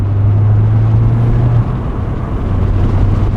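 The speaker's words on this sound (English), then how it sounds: "And with an exhaust, it sounds so good." A 2024 Mazda MX-5 Miata ND3 Grand Touring fitted with an aftermarket exhaust, its engine droning at a steady, loud low pitch that dips slightly midway and then holds, heard from inside the car.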